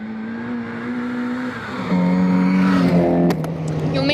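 A historic Mini rally car races along a stage of the Severn Valley Stages, its engine note climbing, dropping with a gear change, then revving higher before easing off, loud and close with no talk.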